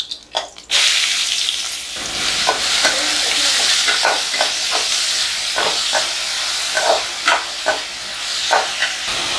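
Onions and curry leaves hitting hot oil in a pan for egg gravy, a loud continuous sizzle and crackle after an opening clatter, with repeated stirring knocks and scrapes throughout.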